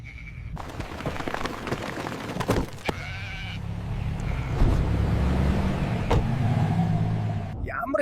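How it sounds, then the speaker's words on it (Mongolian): Sheep bleat in wavering cries beside a running car on a countryside road trip, while voices and engine rumble sit underneath. "Ямар их майлдаг хонь вэ?"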